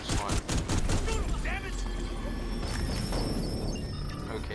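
Shotgun blasts in The Division 2, a quick burst of several heavy shots at the start followed by lingering gunfire and combat noise, with someone talking over the action.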